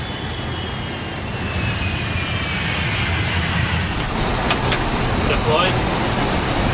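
An American Airlines jet lands at Los Angeles, a steady, broad engine roar and rushing air that builds slightly near the end, heard close and continuous.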